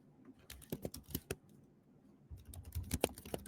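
Keys clatter on a computer keyboard as a document title is typed, two quick bursts of crisp, close clicks separated by a short pause, with no talking.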